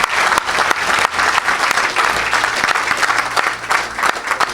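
Congregation at an evangelistic service applauding and acclaiming Jesus Christ: loud, sustained clapping and crowd cheering fill the whole stretch, dense and continuous with no pause.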